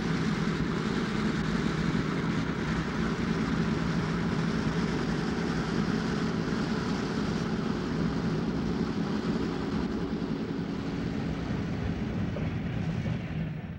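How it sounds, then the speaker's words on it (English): The Santa Fe Chief passenger train rolls out through the rail yard throat from Los Angeles Union Passenger Terminal, a steady, loud low rumble of wheels and diesel power that holds evenly throughout. "The Santa Fe Chief would leave the LA Union passenger terminal at 11:30 a.m. and move out through the maze of tracks in the yard throat area."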